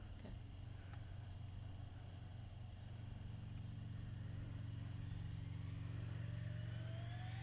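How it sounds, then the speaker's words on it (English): A car on a hilly road drives up and away in the distance, a low steady engine rumble under constant insect chirping and outdoor background noise, with no one speaking. "A car that was on Ingersoll going up the hill."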